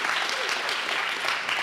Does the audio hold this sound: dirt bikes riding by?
no